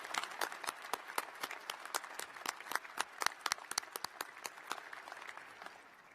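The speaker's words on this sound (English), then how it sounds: "Another round of applause for Dr." Applause at an Iowa State University winter graduate ceremony, sparse but energetic clapping from a crowd in a large hall, sharp individual claps overlapping for several seconds before fading out.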